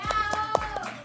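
Studio audience applause on a Peruvian talk show: a few sharp, separate claps land at a steady pace over a sustained tonal background and voices, moderately loud and close.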